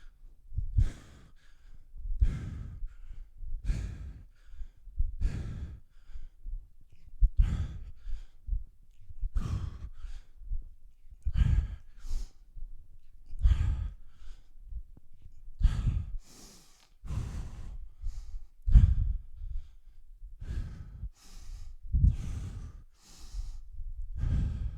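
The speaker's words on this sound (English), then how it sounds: "other nice things about nasal breathing is that it sort of slows you down" Heavy nasal breathing during a kettlebell complex workout, with strong rhythmic inhales and exhales repeating roughly every second or two, close and steady throughout.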